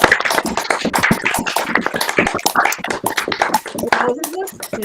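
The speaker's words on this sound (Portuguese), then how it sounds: "gostaria de pedir que abrisse o microfone e desse uma salva de palmas para a Ana Cristina" Participants in an online mathematics mini-course clap through open microphones, an uneven, close scatter of hand claps mixed with overlapping voices and thanks.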